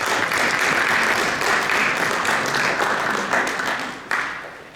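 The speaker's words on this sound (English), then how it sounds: "Let's give the parents and families a round of applause" Sustained applause from the audience at a high school National Honor Society induction ceremony, given for the parents and families, a dense steady wash of clapping that thins slightly toward the end.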